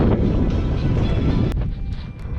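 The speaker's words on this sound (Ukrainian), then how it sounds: "Тут дуже вітряно, відкрите поле коридор між двома пагорбами і тут не здається, якраз я їду проти вітру, воно дуже шумно." Strong wind roars and buffets the microphone while riding straight into a headwind across an open field in a corridor between two hills in south-eastern Podillia. The rumble is loud, dense and continuous, with no voices.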